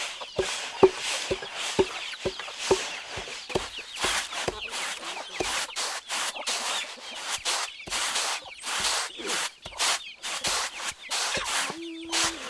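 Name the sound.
rice being crushed, peeled and sifted after harvest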